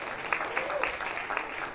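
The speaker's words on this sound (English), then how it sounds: "give round of applause" A small audience applauding during an MIT ice cream making demo, a light, scattered clapping with a few sharper hand strikes standing out, moderately quiet with faint voices mixed in.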